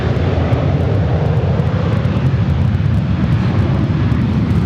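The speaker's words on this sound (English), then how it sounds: "This is Cathay Pacific Flight 882 coming in from Hong Kong on the 777" Boeing 777-300ER airliner on Cathay Pacific's flight in from Hong Kong, arriving at Los Angeles LAX: a steady, loud broadband jet roar dominated by low rumble, continuous and unbroken throughout, with no talk.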